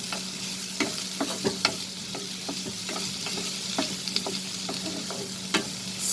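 Chopped onions sauteing in a pan over a medium-high flame: a steady, soft sizzle with a few sharp scrapes and clicks from stirring, close and alone.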